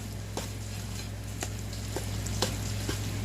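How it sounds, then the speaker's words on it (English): Fried chicken being stirred with sweet chili sauce in a hot pan, a steady close sizzle with occasional light scraping taps of a utensil, no talking. "And I'm just going to start stirring."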